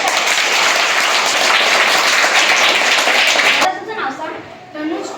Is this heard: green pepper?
no